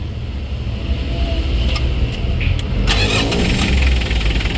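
A Mitsubishi L300 van's 4D56 diesel engine starts: a close starter crank catches into a rough, rattling diesel idle, loud and steady with some clattering noise, no talk.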